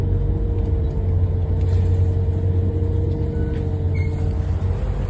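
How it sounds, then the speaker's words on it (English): A newer city bus driving on Route 20, heard from inside the cabin: a steady, loud low engine drone and road rumble with a faint whine running throughout and no talk. "this is a really nice bus, and it's a newer grandpa bus"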